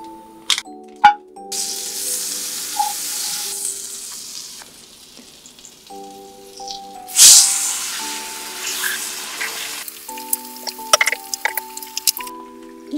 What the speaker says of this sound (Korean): 버터로 구운 장어는 맛있을까?